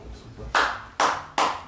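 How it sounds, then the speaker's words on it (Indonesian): Three separate hand claps, sharp and close, spaced roughly evenly after a soft opening murmur. "Tepuk tangan"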